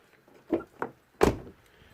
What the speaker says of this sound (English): and the car unlocks